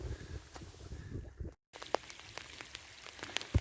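Rain falling on an estuary shore on a very rainy day, a steady soft patter of drops with occasional sharper close splashes, fairly quiet and without talk.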